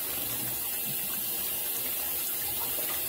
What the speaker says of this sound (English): my water is already boiling